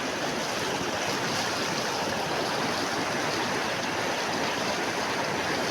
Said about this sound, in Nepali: खोला चाहिँ यस्तो छ नि वाउ छ खोला